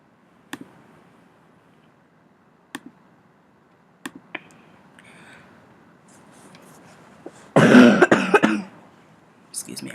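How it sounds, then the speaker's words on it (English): A short burst of coughing at close range, loud and harsh for about a second, set among a few sharp clicks and light rustling in an otherwise quiet room. "Excuse me, I had to cough."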